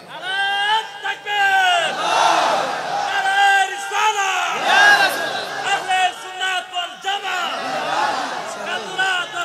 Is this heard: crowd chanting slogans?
yes